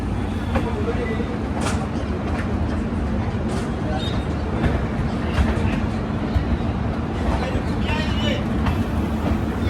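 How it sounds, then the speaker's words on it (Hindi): A double decker express train crawls slowly along, heard from inside the carriage as a constant low rumble with faint clanks and rattles. Faint background chatter runs underneath. "ट्रेन बिल्कुल क्रॉल करके चल रही है, बिल्कुल स्लो रफ्तार में चल रही है"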